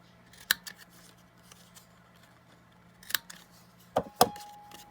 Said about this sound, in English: Let's trim that corner so I can get it down there.